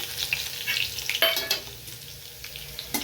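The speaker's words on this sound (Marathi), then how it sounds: "फक्त आता ह्याच्या तेलामध्ये जिरे मोहऱ्या घालायचे आपल्याला." Cumin and mustard seeds frying in hot oil with garlic already in the pan, giving a steady crackling sizzle with sharper pops and spatters scattered throughout, close and moderately loud.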